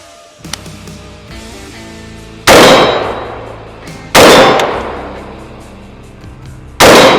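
Three loud rifle shots each ring off a big steel popper target at an outdoor range, every crack followed by a long fading metallic clang, spaced a couple of seconds apart with quiet gaps between.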